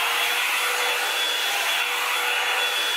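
A Revlon One Step hair drying brush on setting 2 blows with a loud, constant whooshing roar and a thin high whine, unbroken throughout.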